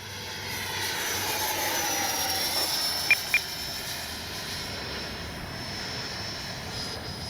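An FMS Integral 80mm electric ducted-fan RC jet flies at half throttle, giving a steady whooshing whine that holds at an even level throughout, with two faint brief chirps midway.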